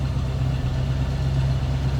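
A 1968 Chevrolet Camaro convertible engine idles steadily through a true dual exhaust, a deep low rumble with an even throb, close and continuous with no talking.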